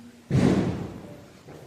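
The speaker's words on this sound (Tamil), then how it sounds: "வெடி சவுண்டாக கேட்குதா உங்கள் ஏரியா ஃபுல்லாக பசங்க வெடியாக போட்டு தர்றாங்க" A single sharp bang of a Diwali firecracker goes off outdoors, then its boom decays slowly over about a second, with a fainter pop near the end.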